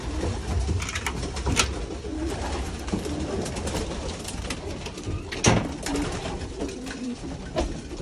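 Pigeons coo steadily inside a loft, many low rolling calls overlapping at close range, with occasional wing flutters and knocks scattered throughout.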